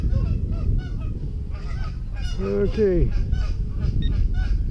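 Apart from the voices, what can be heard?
geese honking at a park beach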